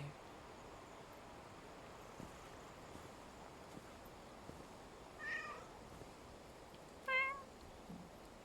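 A cat meows in the exploration game Lushfoil Photography Sim, two short distinct mews a couple of seconds apart, fairly faint over a soft steady wind and surf-like ambience.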